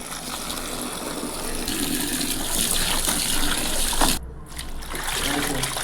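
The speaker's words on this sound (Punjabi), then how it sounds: "ਆਪਾਂ ਪਾਣੀ ਚ ਡਬੋ ਕੇ ਵੀ ਦਿਖਾ ਦਿੰਦੇ ਆ ਕੱਪੜੇ" Water gushes and splashes as a washed cloth is dipped in, a continuous sloshing rush that briefly cuts out near the end before resuming.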